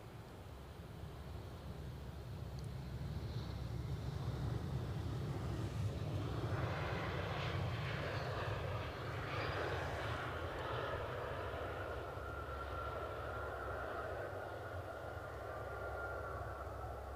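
An airliner at Edinburgh Airport produces a steady, distant jet engine roar that swells gently in the middle and holds as a broad, continuous rumble with no voices over it.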